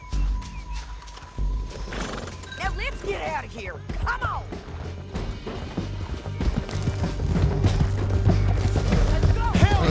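Horses gallop in Red Dead Redemption 2, hooves clip-clopping steadily and growing louder, with neighs and mechanical clatter mixed in under urgent shouted talk.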